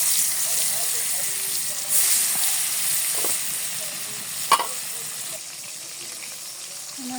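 Fish sizzles steadily in hot oil, a constant bright crackling hiss with a few sharper pops and clinks of stirring.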